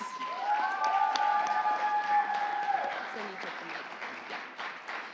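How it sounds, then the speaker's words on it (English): Audience applause and cheering for contestants at a scholarship pageant, a full crowd clapping steadily, with a sustained tonal sound running through the first three seconds before fading. "So give the ladies a big round of applause."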